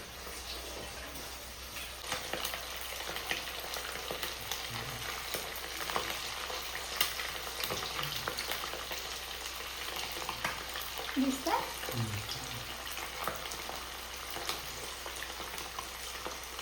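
Chicken 65 pieces fry in oil in a kadai wok with a constant soft crackle and sizzle, a few low bubbling pops and light clinks rising now and then.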